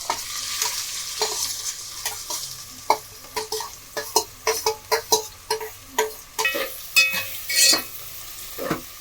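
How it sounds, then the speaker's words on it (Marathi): Chopped onion stirred into a hot pan with frying garlic for a Marathi-style chicken curry, sizzling under a run of sharp spoon-on-pan scrapes and knocks that quicken and cluster toward the end. "आता आपण कांदा टाकून घेऊया."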